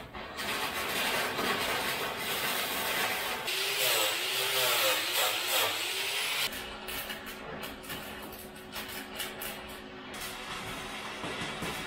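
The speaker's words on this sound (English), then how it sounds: "I'm using a grinder to grind away the overhead welds to check the quality of the weld." An angle grinder grinds down overhead welds on a steel shipping container, a loud continuous whining, rasping roar that changes pitch midway and then carries on more steadily for the rest of the clip.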